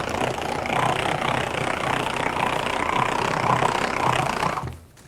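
A hand-crank Whip N Mix Chef mixer turns steadily in gear 2, giving a continuous whirring, grinding drone close by that holds even for about five seconds and then stops abruptly.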